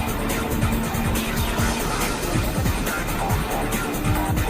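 Race car drifting with skidding tires during a racing challenge series, a dense, steady engine roar with repeated squealing slides running continuously throughout, loud and close.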